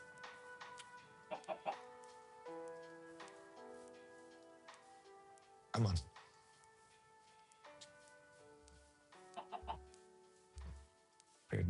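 Chickens in the Minecraft video game give short, clustered clucks at irregular intervals over soft, sustained in-game music notes, with a brief spoken remark near the start.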